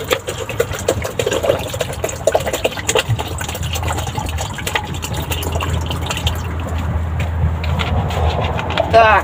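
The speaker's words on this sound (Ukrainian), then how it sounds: "Так, наливаємо водичку." Water pours steadily into a makeshift device at an abandoned base, a continuous splashing stream with a low engine-like rumble beneath, the pitch of the filling rising near the end.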